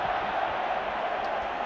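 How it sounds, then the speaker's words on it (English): A rugby league crowd at a Wigan versus Bradford Regal Trophy final lets out a sustained, dense groan after a knock-on, heard as a broad wash of massed voices in a large stadium. "And the referee says it's a knock-on. Crowd groan."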